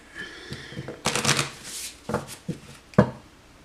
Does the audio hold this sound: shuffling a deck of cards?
yes